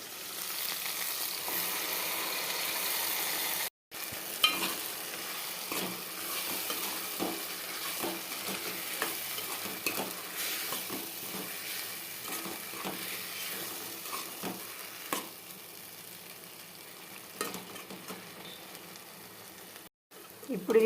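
Chilli and tomato masala curry frying in a pan with ground tomato and coriander powder, a steady loud sizzle throughout, broken by short scrapes and knocks of stirring, a voice speaking faintly beneath.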